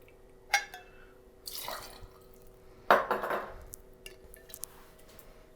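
Gin poured into a grapefruit and Campari cocktail, a few brief liquid splashes and drips against glass, quiet and close, with no talking.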